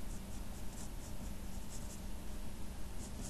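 Pencil drawing on paper while sketching a futuristic rifle, a steady dry scratchy rasp of graphite strokes running continuously and close up with no talk.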